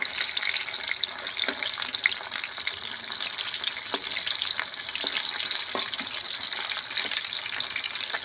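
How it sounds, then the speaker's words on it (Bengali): Bombay duck (lote) fillets being fried crisp in oil, with a continuous close sizzle and scattered small pops and spatters, no voices. "এইভাবে উল্টে ফেলতে বেশ ভালো করে ভেজে নেব সব মাছগুলো"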